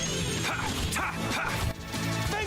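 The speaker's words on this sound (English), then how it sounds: "I have a pipe-smoking, sword-wielding dog" Video game dog from Tales of Vesperia, a pipe-smoking, sword-wielding dog, barking and yipping in short bursts over dense battle music and combat effects, fairly loud and close.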